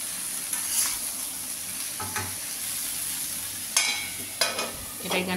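Salted cut cauliflower being stirred in a cooking pot, soft scraping and clinks from the utensil with a faint sizzle, a few sharper knocks toward the end.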